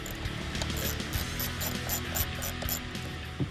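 Ratchet turning fuel rail retaining nuts on a 2011-2014 Mustang GT engine during an intake manifold swap, with rapid repeated clicking bursts over a steady low mechanical hum, close and moderately loud.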